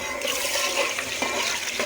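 Sugar syrup pours and sizzles into semolina halwa cooking in ghee, making a loud, continuous rushing hiss up close for about two seconds.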